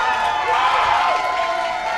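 A boxing crowd in a Millvale ring roars and cheers steadily for two seconds, a dense wash of many voices with a commentator talking over it.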